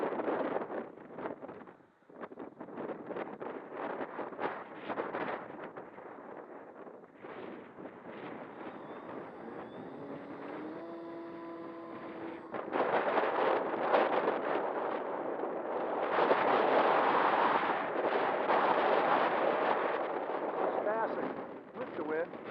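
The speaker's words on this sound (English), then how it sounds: "here we are today in 45 to 55 miles an hour gusts" Strong autumn wind gusting at 45 to 55 mph on an open Nebraska plain roars and buffets the microphone, surging louder in waves with a brief tonal hum partway through.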